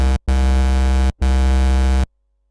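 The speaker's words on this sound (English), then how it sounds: "Now if we want to make a classic filtered bassline sound" Synth bassline with a classic filtered patch, LFO set to 1/8 rate and routed to the filter cutoff, yet still unmodulated: two long, loud, steady buzzing bass notes with a brief gap, then silence.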